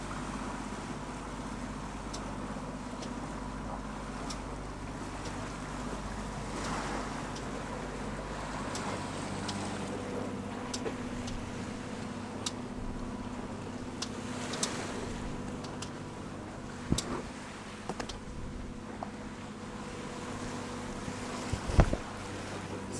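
Sailing catamaran motor-sailing on one engine with a screecher set, a steady low engine drone under wind rush and washing waves, with occasional knocks and creaks aboard.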